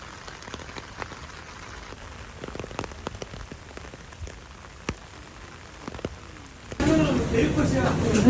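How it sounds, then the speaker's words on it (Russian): Steady rain falling on a Seoul street on a morning with shops still closed, a soft patter with scattered drops for most of the clip, then swelling into a louder, denser wash near the end. "Погода дождливая, приятная."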